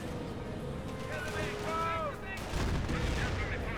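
A Panther tank in Company of Heroes fires its cannon at an anti-tank gun, a heavy, booming shot that lands late in the clip after faint battle ambience and whistling effects, with a voice talking over it.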